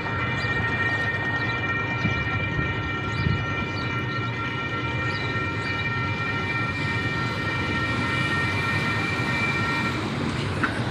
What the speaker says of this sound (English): I hear my favorite train.